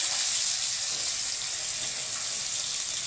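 Sliced green mangoes frying in a pan with ground mustard and slit green chillies, a steady bright hiss and sizzle held at an even level throughout.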